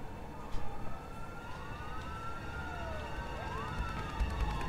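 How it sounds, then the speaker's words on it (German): Police sirens wail in the video game A Way Out, several overlapping rising and falling tones heard at a distance over a faint ambient backdrop. "Ich höre Bullen."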